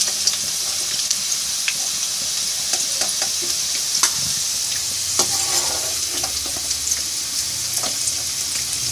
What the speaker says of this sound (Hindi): ये देखिए कितने ज़बरदस्त से फ्राई हो गए।